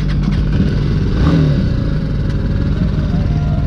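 A motorcycle engine drones steadily and loudly up close as the ride sets off on the Kedarnath Yatra route in 2022. The mid-pitched rumble is continuous, with no voices over it.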